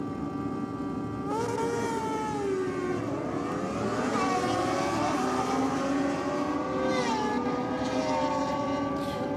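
A Kawasaki drag racing motorcycle on a run at a championship drag strip makes a loud, high-revving engine wail, climbing in pitch through several gear shifts over a continuous roar, heard from trackside.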